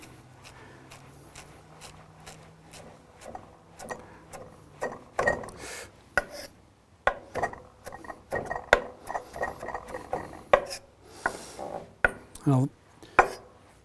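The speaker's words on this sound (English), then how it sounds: "So I'm going to chop up some mint here" A knife chops fresh mint on a cutting board in a steady run of sharp, close taps that grow quicker and louder, with a brief spoken word at the start.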